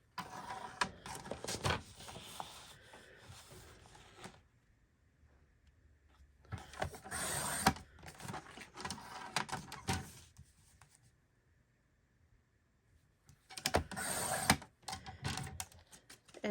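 A paper trimmer slices through scrapbook paper in short bursts of scraping, clicking blade strokes separated by quiet pauses, close and moderately loud.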